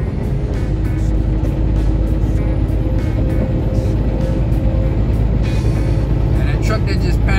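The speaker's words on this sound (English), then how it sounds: "Truck that just passed us on the left, he's going pretty fast." A fast truck passes on the left from inside a moving vehicle, heard as loud steady road and engine rumble with a rushing swell toward the end; speech is faintly present.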